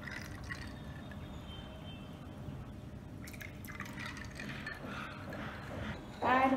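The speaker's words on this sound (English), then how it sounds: "Pour over some water." Water trickles and drips as it is poured into a glass of khus sharbat mocktail over sugar syrup. The sound is quiet and close, with a brief louder splash at the end.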